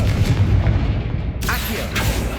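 A Confringo blasting spell goes off in Hogwarts Legacy, a loud booming burst with a rumbling low end, followed by a couple of sharper crackling flares, set against the game's background sound.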